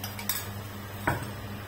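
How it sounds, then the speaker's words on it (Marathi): A metal spoon scrapes and taps against a pan while stirring Kunjir wild vegetable bhaji with garlic and crushed peanuts, giving two brief clinks over a steady low kitchen hum, no talking. "मस्त असं छान हलवून घ्यायचं."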